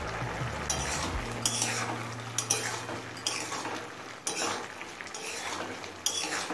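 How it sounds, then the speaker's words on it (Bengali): A utensil stirs sugar into a pumpkin and capsicum curry in a pan, with repeated scraping and clinking strokes over a soft background simmer. "চিনিটা মিশিয়ে নিলাম"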